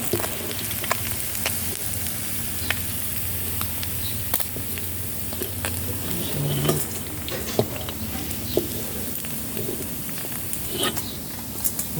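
Sun-dried fish fries gently in oil over a low gas flame, a soft steady sizzle close by, broken by occasional clinks and scrapes of a utensil against the pan.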